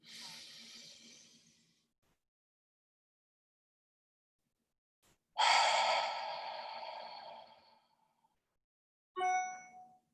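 Slow guided breathing for calming anxiety: a soft exhale through the mouth, a long pause, then a louder, drawn-out mouth breath, and finally a short ringing tone.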